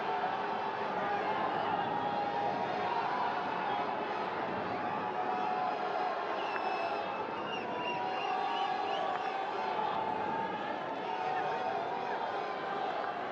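A big crowd at a men's field hockey match between New Zealand and India in New Delhi roars in a steady, broad wash of noise late in the game, with commentary voices heard over it.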